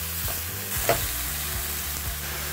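Thick burger patties hit a preheated skillet for keto protein-style burgers, giving a steady, close sizzle with one brief louder burst near the start and a faint low hum underneath.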